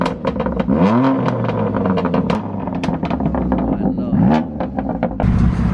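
A BMW M2 Competition is revved at a car meet: the engine climbs in two sharp revs over a steady idle rumble, with crowd chatter and voices mixed in around it.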